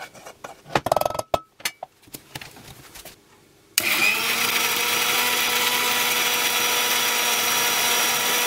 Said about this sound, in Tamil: கொஞ்சமாக தண்ணி சேர்த்து நான் இதை நல்லா கிரைண்ட் பண்ணிக்க போகிறேன்.